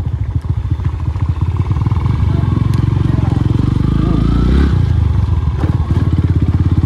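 A motorcycle rides off-road through jungle and mud, its engine loud and close with a rough, pulsing idle and rev, rising briefly near the middle before settling back.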